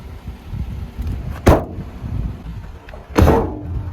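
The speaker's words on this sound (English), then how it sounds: "shutting the door and hearing that sound" Two heavy car door slams of a 2022 Lexus RX 350, a couple of seconds apart, each a solid, hollow thud over low background rumble.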